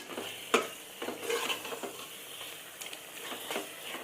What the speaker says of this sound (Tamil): இப்போது இதெல்லாம் போட்டு நல்லா மிக்ஸ் பண்ணிக்கோங்க.